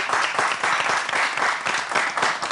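Audience applause at a French children's reading and culture event, a dense, steady burst of many hands clapping at once, loud and continuous with no voices over it.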